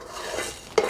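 Rice roasts dry in a pan over medium heat while a utensil stirs it, scraping and shuffling the grains in a close, steady motion with a sharper clink near the end.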